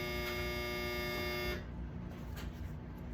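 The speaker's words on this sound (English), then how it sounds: "That was the dryer. Clothes are done." Clothes dryer signalling the end of its cycle with a loud, steady buzzer tone that cuts off after about a second and a half, leaving low room noise.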